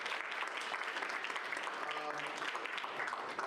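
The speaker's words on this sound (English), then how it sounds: "Can y'all give them a round of applause" Sustained audience applause at a state budget forum on protecting healthcare and education, a steady dense wash of clapping filling the room with some voices mixed in.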